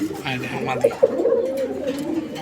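Colouring Raj-Golla pigeons coo in soft, throaty bursts close by, a few rolling calls mixed with a voice talking over them.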